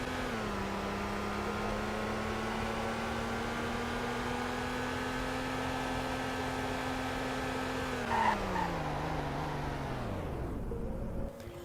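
A car in the Roblox Greenville video game accelerates with a steady, rising engine drone, then brakes hard near the end as the engine pitch drops sharply amid faint tire noise.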